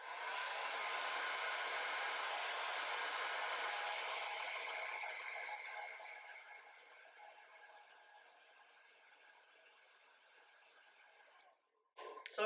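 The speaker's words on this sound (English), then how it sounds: "I'm gonna take my blow dryer and I'm gonna blow dry it that way outwards." Handheld blow dryer running steadily while drying hair wrapped tight on a round brush, a loud continuous airy roar that softens and recedes partway through, then cuts out briefly before a short burst returns at the end.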